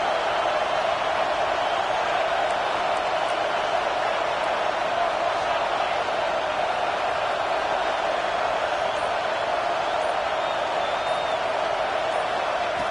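A home crowd at a college football game roars in a steady, dense wash of cheering that never lets up, heard from within the stands.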